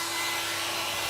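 A small blow dryer on its maximum heat setting draws about 1700 watts from a portable power station and runs as a steady, close whooshing blast with a faint motor whine and no talking.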